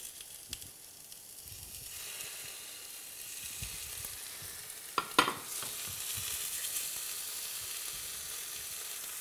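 Atlantic salmon medallions fry in a pan with a soft, steady sizzle and crackle, fairly quiet and close, with a brief sharper clatter about midway.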